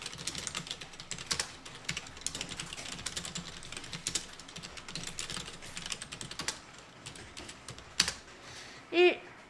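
Fingers tap a computer keyboard while typing text in Hangul word processor, irregular clusters of light clicks, ending with a sharper keystroke and a short burst of faint sound.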